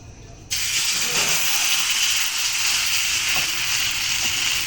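Rice-flour batter hits a hot, oiled karai in a wood-fired kitchen, bursting into a loud, sustained hiss and sizzle after a quiet moment and staying close and constant to the end.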